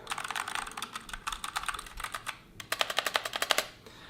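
Rapid bursts of crisp, clacky keyboard clicks from a STOGA MK22 compact mechanical keyboard come in quick rhythmic runs, with a short pause partway through, close up and with no voices.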